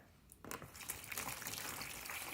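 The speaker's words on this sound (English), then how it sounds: "the first thing I'm gonna do is add the water" Slightly warm water is poured into a container for children's water play: a brief quiet moment, then a steady, close splashing gush that continues to the end.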